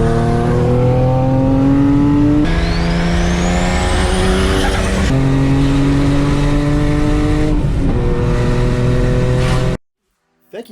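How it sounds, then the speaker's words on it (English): A 1000HP turbocharged Infiniti G35 coupe revving hard, its engine note climbing and falling through several loud pulls with turbo whine, before the sound cuts out suddenly near the end. "we'll actually get that remote start even going back, which will be really nice to hear the startups from outside the car."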